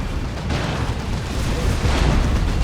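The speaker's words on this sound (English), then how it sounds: "Rocket run and a creeping barrage." A rocket run and creeping artillery barrage in Dawn of War 2, a continuous rumble of booms and blasts rolling along at a steady loud level without clear separate impacts.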